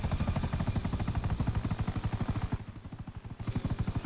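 Military helicopter rotor chopping steadily and loudly up close, a fast continuous thump with turbine whine, dipping briefly then returning at full strength.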